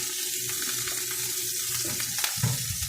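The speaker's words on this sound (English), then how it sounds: "I'm making some skillet toast" Toast frying in a hot skillet, a steady close sizzle with faint shuffling and a soft knock near the end, with no voices.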